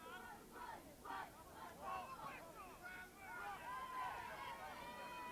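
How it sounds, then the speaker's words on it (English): A high-school soccer crowd at St. Joseph yells and screams for a referee's whistle, a rising and falling wall of raised voices heard from a distance. "St. Joe's crowd screaming for a whistle that time"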